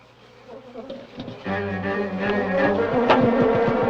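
Bees buzz around hives, a droning hum that swells from faint to steady and fairly loud, with a few sharper rises over a few seconds.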